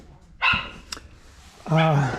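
A dog barks twice, a short bark followed by a longer, higher yelping bark, heard from a moderate distance with quiet between.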